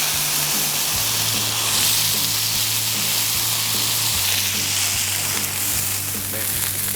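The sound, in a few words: smashed burger patties cooking on a griddle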